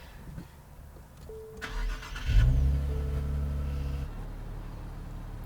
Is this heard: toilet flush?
no